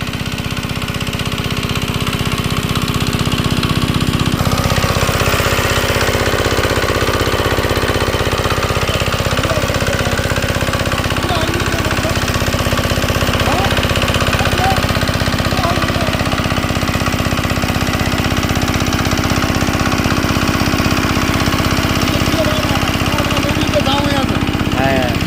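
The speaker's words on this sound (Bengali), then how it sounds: "তো বন্ধুরা অবশেষে আমাদের মেশিনটি স্টার্ট হয়ে গেল।" A shallow pump machine engine runs steadily while pumping river water, a loud continuous chugging drone throughout, with a brief pitch dip early on and faint voices beneath.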